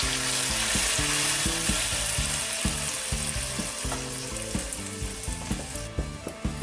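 A cup of water added to a hot frying pan with oil and garlic, giving a dense, steady sizzle and bubbling with occasional stirring knocks, close and loud, no voices.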